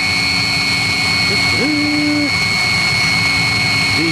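A Chinese 16 kW diesel water heater runs with a steady whining hum and high tonal lines throughout, while a brief rising and falling tone sweeps across the middle and a faint voice sits underneath.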